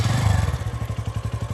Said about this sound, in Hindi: अब हमारी बाइक एकदम स्टार्ट खड़ी है